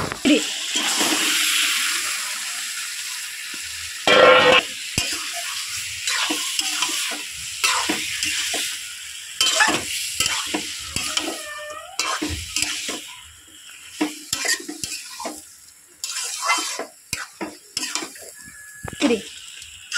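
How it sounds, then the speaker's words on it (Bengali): Desi chicken meat frying and being stirred into a cooked-down spice masala: a hissing sizzle broken by frequent close scraping and clattering strokes of a spoon against the pan, uneven and intermittent. "এটা কষানো হয়ে গেছে, এবার মাংসটা দিয়ে দেবো।"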